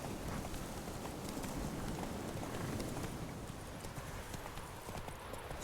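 Horse hooves clip-clop steadily while riding in the video game Witcher 3, a continuous near rhythm of hoofbeats with a faint voice barely present underneath.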